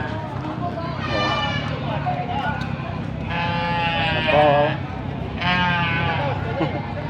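Goats bleat loudly and repeatedly in a crowded goat pen at a livestock market, with several long wavering calls overlapping amid general farm bustle and a brief spoken exclamation.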